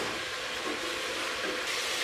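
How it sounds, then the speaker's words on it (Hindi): Mutton frying in a karahi for dhaba-style mutton karahi, giving a steady, dense sizzle and hiss that carries on unbroken from start to finish with no voices. "मुझे तकरीबन 7 से 8 मिनट हो गए हैं इसको इसी तरह फ्राई करते हुए।"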